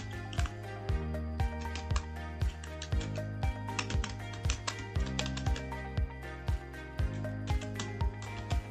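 Quiet, steady keystrokes on a computer keyboard tap out a name in an even rhythm of soft clicks, close by and with no voices.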